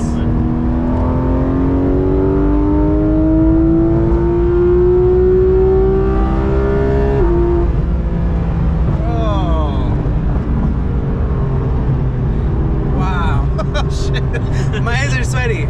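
A 2019 Porsche 911 GT3 RS with the Weissach Package accelerates hard, its loud engine note climbing steadily in pitch through a long gear before a shift, with excited voices talking over it inside the cabin.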